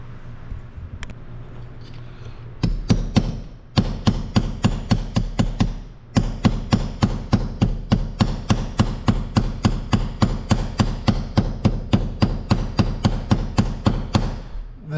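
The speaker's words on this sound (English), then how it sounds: "I am going to use a hammer and I'm going to flatten this out and stretch the metal that way" A hammer flattens and stretches a metal piece during the rebuild of a 1920 Nash 687 engine, giving loud, rapid, evenly spaced metallic blows that run steadily with one short pause and no talking.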